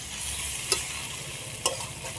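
Fried cauliflower and potato sautéed with spices in oil, a steady close sizzle with two sharp spatula scrapes against the pan, no voices.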